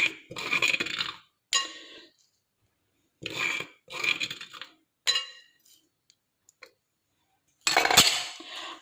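A spoon stirs fruit chaat with black salt and ground cumin in a bowl, making several short bursts of clinking and scraping against the dish, separated by silent pauses, with no voices.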